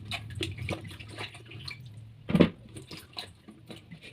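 Chopped ingredients swished and rinsed in a bowl of water for the third time, with soft sloshing and dripping and one louder splash midway, close by.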